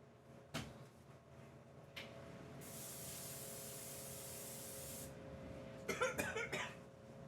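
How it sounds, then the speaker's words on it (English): Non-stick cooking spray hisses from a can in one steady burst lasting about two and a half seconds, close and fairly loud, framed by a few soft clunks and a brief cough-like sound afterward. "we didn't coat it with non-stick spray, which is conveniently right here"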